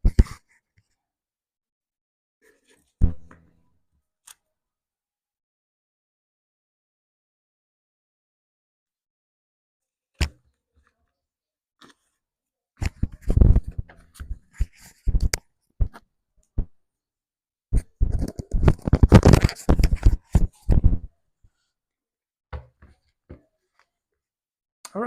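A Magic: The Gathering Commander deck being riffled and shuffled by hand, bursts of crisp card flicks and snaps clustered in two runs, with quiet gaps between.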